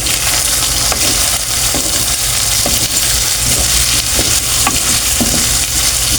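Vegetables stir-fry in hot oil for chopsuey with quail eggs, giving a loud, continuous sizzle broken by scattered clinks and scrapes from stirring.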